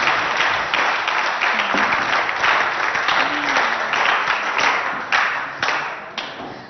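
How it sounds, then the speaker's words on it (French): Dense, loud applause from a crowd at a high school quiz contest in Abéché, sustained throughout with a few sharper individual claps standing out toward the end as it thins. "Merci pour ces applaudissements."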